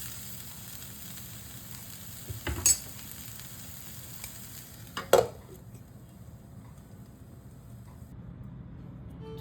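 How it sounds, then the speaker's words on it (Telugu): Beans curry sizzles steadily in a pan, a soft continuous fry broken by two sharp metallic clanks of utensil or lid before the sizzle carries on alone. "ఇప్పుడు మూత పెట్టుకొని మరో 2 నిమిషాలు ఉడికించుకుందామండి"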